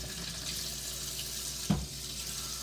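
Water runs from a kitchen tap during handwashing while meatballs are being made, a steady soft hiss throughout with one brief louder splash or knock midway.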